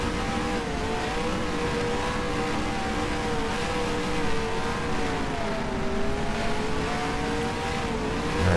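Winged-less sprint cars roar around Brewerton Speedway in NASCAR Racing 2003, a continuous loud engine drone with wavering pitch as the pack circles close by.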